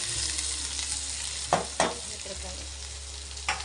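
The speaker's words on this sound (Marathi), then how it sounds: "आणि हे तर आपले चांगलं तडकलं. यात मी टाकते बटाटे उकडलेले," Boiled potatoes hit a hot tempering of green chilli and curry leaves, a steady close sizzle of frying with a few sharp stirring scrapes against the pan, with a brief spoken word.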